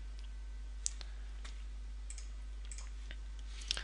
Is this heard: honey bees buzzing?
no